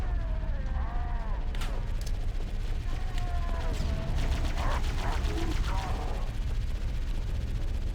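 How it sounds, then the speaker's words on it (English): Plasma cannon fire in the video game Halo, heard as repeated sharp blasts mixed into sustained battle gunfire, with voices speaking over parts of it. "Listen to that plasma cannon."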